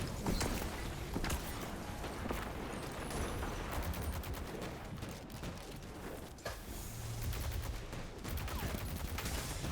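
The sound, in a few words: missiles firing in the video game Terraria Calamity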